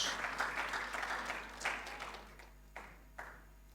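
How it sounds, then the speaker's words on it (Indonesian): Applause from a congregation at a Sunday church worship service: a broad, sustained wash of clapping that thins out midway, leaving a few scattered, isolated claps near the end. "Berikan tepuk tangan yang panjang bagi Tuhan Yesus"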